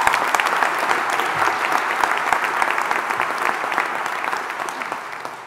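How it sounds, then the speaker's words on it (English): A large crowd at a university graduation ceremony in Greenwich claps loudly and steadily in a hall, a dense wash of applause that slowly fades. "Let's cheer for them all."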